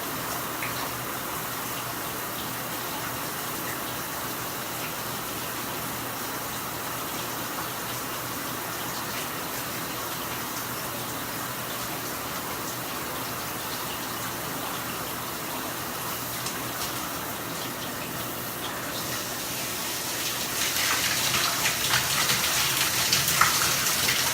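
A shower runs during rinsing, a steady hiss of water spray that grows louder and fuller near the end.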